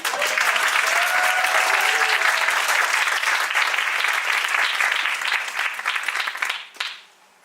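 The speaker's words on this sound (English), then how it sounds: "so please, big round of applause." Sustained audience applause at a people-ops tech startup pitch competition. The clapping is loud and dense, holds steady for several seconds, then thins out and fades away at the end.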